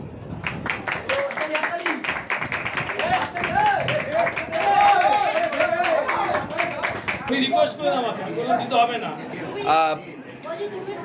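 An audience at a blood donation camp organized by a coaching centre claps in a rapid burst of hand claps, mixed with crowd chatter and a voice talking over it, before fading into talk.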